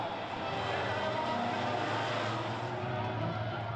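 Racing trucks roar away at the start of race one of the FIA European Truck Racing Championship at Most circuit, a loud, dense and continuous engine roar with a commentator talking over it.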